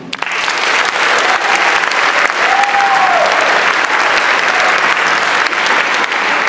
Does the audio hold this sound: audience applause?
yes